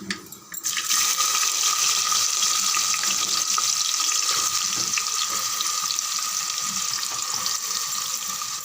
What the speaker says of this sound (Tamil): கருவேப்பிலை கொஞ்சம் நல்லா பொரிஞ்சிடுது.